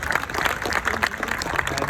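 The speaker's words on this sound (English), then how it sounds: "we'll take a clap for that" An audience applauds at an onstage founder interview in Dubai, with steady, dense clapping from a crowd filling the whole moment.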